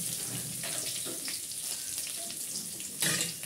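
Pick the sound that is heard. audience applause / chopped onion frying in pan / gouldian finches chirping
chopped onion frying in pan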